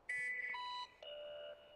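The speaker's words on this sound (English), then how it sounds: "There is the alarm for this episode's Nerd Alert." A short electronic alarm jingle marks a segment in a Prison Architect game video, playing a few clean, bright synthesized tones in two stepped phrases, loud and alone.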